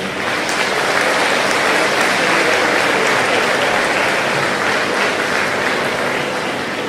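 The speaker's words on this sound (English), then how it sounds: "give a big round of applause to your families for all they've done for you" Large crowd at a school graduation ceremony applauds the graduates' families, a loud, continuous roar of clapping from many people, dense and unbroken like heavy rain for the whole stretch.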